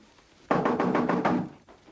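A brisk series of about five knocks on a door, fairly close and loud, evenly spaced in one burst, followed by a quieter single knock after a short pause.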